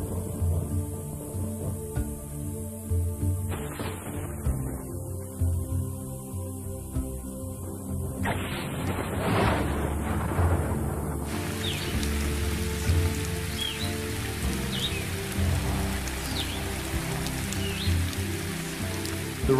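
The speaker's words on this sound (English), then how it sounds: "the big thunderstorms, bringing the season's first heavy downpours," Heavy downpour from the season's first big thunderstorms falls steadily in wild open country, a dense, continuous hiss of rain on the ground with a low background rumble and no voices.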